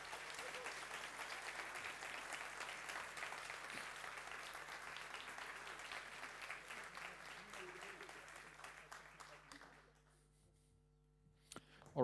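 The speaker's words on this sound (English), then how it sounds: "One round of applause for the Prime team." An audience applauds the Prime team at a university education day award ceremony, a steady round of clapping that fades out near the end, with voices faintly underneath.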